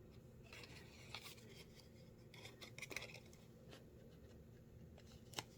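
Scissors snip through paper during a stamping craft project: faint, scattered crisp cuts and rustles over a low background hum, with no one speaking.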